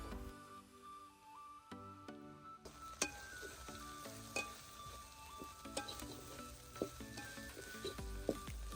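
Shrimp fry in hot oil for a lasia (kohila) dish, a steady close sizzle broken by repeated scraping stirs and light metallic knocks, with no talking.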